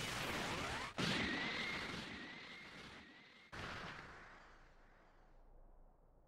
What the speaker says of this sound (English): Special Beam Cannon!